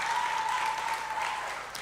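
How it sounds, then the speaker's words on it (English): Audience at a junior school graduation applauds a graduating student, a continuous patter of many hands clapping at moderate level, with a faint steady tone and low hum beneath, easing slightly toward the end. "So we give her a round of applause for her tenacity."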